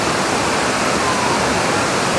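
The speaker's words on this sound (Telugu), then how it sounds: "elephant falls third water falls అనమాట" Elephant Falls, a three-tier waterfall near Shillong in Meghalaya, pours with a steady, dense roar of falling water, loud and continuous throughout the short stretch.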